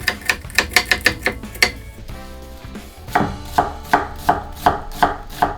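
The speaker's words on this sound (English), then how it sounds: "Take half of that onion and mince it" A knife finely mincing half a yellow onion on a cutting board, quick rhythmic chopping taps in close bursts with a short pause in the middle.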